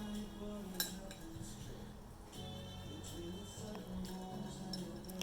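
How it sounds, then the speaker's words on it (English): A spatula scraping and stirring gravy in a pan while roasted chicken gravy is made, soft metallic clinks and scrapes at low volume over faint background noise. "So right now he's stirring it with his spatula that you just saw."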